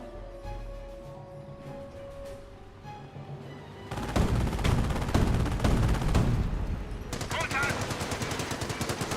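Gunfire in a Company of Heroes battle, including a sniper, dense rattling shots and booms building after a quieter start, with a commentator talking over the fighting.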